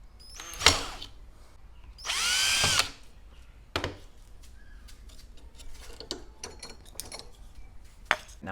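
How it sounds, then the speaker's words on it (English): A piece of bamboo drilled with a 1/8 inch bit on a power drill, two sharp whirring bursts, the longer lasting under a second, followed by scattered clicks and taps of handling. "Now we drill a hole and put our paracord and simple set of nunchucks"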